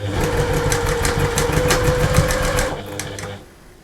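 A sewing machine stitching a fabric cuddly bear at a quarter-inch seam makes a rapid, even mechanical whirr for about three seconds, then winds down and stops.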